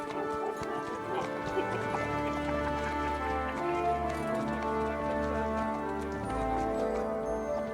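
Horse hooves clip-clop steadily in Kingdom Come: Deliverance II, with occasional whinnying, over game ambience and background music while a voice talks.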